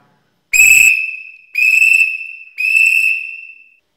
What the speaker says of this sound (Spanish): La O está compuesta por tres rayas y sonará de esta manera.